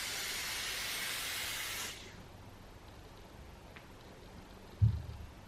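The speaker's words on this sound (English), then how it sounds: "let's go in and spray some now and see what it looks like" A facial mist spray from a doctor's beauty kit hisses loudly and steadily for about two seconds, then cuts off, leaving quiet room tone with a brief soft bump near the end.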